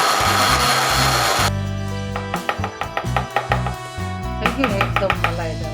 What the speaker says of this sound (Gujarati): આપણે એને મિક્સર જારમાં પીસીશું.